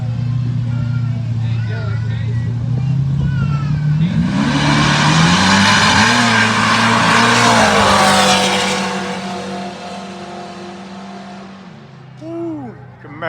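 A Camaro launches in a no-prep grudge drag race on a true street strip, its engine roaring loud and steady for several seconds as revs climb and shift, then fading into the distance while crowd voices and commentary run underneath.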